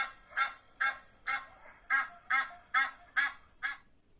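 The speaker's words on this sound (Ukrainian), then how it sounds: "А так загелготав гусак з гускою." A gander and goose honking in a steady series of about eight loud, nasal calls, evenly spaced and close by, with no other sounds.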